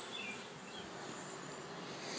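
A soft, steady hum of honeybees buzzing in a hive fills the background, close and continuous, with a brief sharp click near the end.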